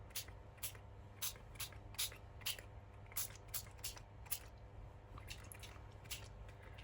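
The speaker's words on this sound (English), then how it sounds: "we'll spray a bit of speckled egg" A speckled egg colour spray is spritzed onto paper in a rapid series of short, sharp hisses, roughly a dozen bursts at an uneven rhythm, close and clear against a quiet room.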